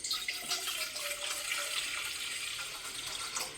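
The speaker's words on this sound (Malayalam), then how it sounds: "അതിലേക്ക് ഏകദേശം നമുക്ക് ഒരു 2 കപ്പ് വെള്ളം നമുക്ക് പാരാം." Water poured into a pot for making tea, a steady hissing splash lasting several seconds at moderate distance, with no talk over it.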